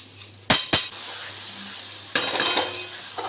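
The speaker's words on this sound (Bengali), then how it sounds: "এবার দেবো রসুন আর টমেটো বাটা।" Garlic and tomato paste go into a cooking pan with a pair of sharp clinks of utensil on metal, then a longer burst of scraping and clattering as the pan is worked, alone with no talk.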